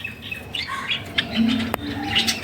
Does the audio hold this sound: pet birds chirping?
yes